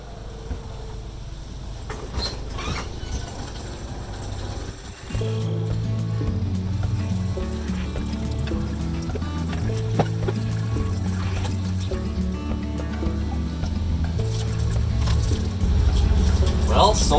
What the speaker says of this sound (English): time to turn on the pump